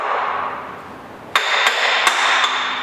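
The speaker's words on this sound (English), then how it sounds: "So give it a few taps of the hammer and it should release." Hammer blows on a timing belt sprocket of a Ford 1.8 TDCi engine, four sharp metallic taps over steady background noise, close and loud.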